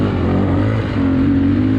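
Honda XR600R dirt bike single-cylinder engine running close by, a throbbing idle that rises briefly as the throttle is blipped, heard alone.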